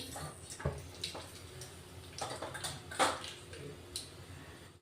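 Mustard seeds crackle in hot oil for a kadhi tempering: scattered sharp pops and spits over a soft sizzle, irregular and close, with a few louder bursts.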